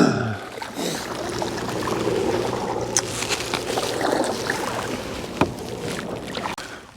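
Canoe paddling on Loch Voil, with steady water swishes and drips from the paddle strokes, a few sharper splashes and knocks against the hull, close and moderately loud.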